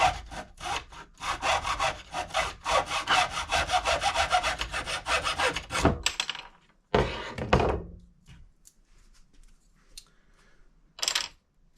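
Wooden dowels about 5.5 inches long are hand-sawn, giving rapid, rhythmic rasping strokes close up for several seconds, then a few scattered knocks and scrapes as the cut finishes.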